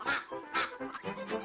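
A big farm duck quacks in a quick series of about five or six close, rasping calls, each following right after the last.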